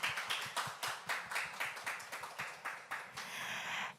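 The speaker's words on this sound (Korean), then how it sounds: "현장에 계신 분들의 큰 박수로 시작하겠습니다." An audience claps to open a venture forum on urban regeneration and tourism startups. Crisp, fairly even claps come in a quick, regular rhythm, then blend into a fuller burst of applause at the end, heard at modest volume.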